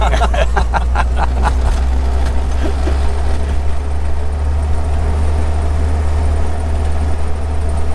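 A 1951 Willys Jeepster engine pulls up a grade in high gear, a loud, steady low drone heard from inside the vehicle, with a few light ticks and taps in the first seconds.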